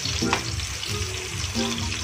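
Pork sizzling and frying in a pot while cooking Filipino sinigang na baboy, a continuous close crackle and hiss with small popping spurts, heard alone without talk.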